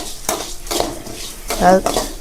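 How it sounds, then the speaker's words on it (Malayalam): Black pepper and coriander roast in a little coconut oil in a pan, with a few sharp stirring scrapes and a soft sizzle close by. "കുരുമുളകും മല്ലിയും വെളിച്ചെണ്ണ കുറച്ച് വെച്ചിട്ടുണ്ട് കേട്ടോ നല്ല പോലെ ഇതൊന്ന് വറുത്തെടുക്കട്ടെ"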